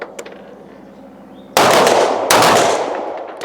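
Two loud shots from a SIG P210 9mm pistol on a 25 m range, sharp cracks a little under a second apart, each trailing off in a ringing echo, with quiet background before.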